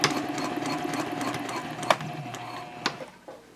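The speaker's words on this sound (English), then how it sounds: "all I'm going to do now is sew it in with my permanent stitching" Sewing machine running steadily as it stitches a permanent seam along a handbag side panel at a stitch length of 2.5 to 3, a continuous close mechanical whir with two sharp clicks near the end.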